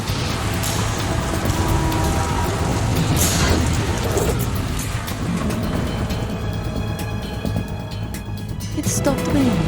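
Heavy rain from the Metal Gear Solid 2 game keeps up a dense, steady hiss with occasional low thunder-like rumbles, while a voice speaks over it.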